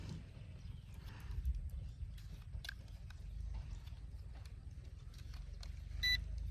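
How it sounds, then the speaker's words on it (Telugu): An Aovo W70 GPS 4K drone gives a single short electronic beep near the end as its calibration completes, heard over quiet, low rumbling background noise. "సౌండ్ వచ్చింది చూసారా, బీప్ సౌండ్"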